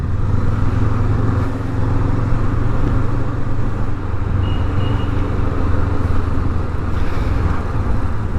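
Honda 500X motorcycles in a group ride pass by with a continuous, fairly loud engine rumble and a low, steady drone that dips and swells slightly as riders roll along.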